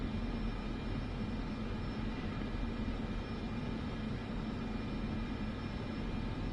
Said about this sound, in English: We'll get to the end, we're just taxiing.